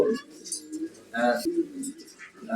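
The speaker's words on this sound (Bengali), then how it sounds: "ইউরোপিয়ান হোয়াইট জায়ান্ট কটনিস কয়েল পাখি" European White Giant Coturnix quails on a poultry farm give short chirps and soft calls close by, mixed in with someone talking.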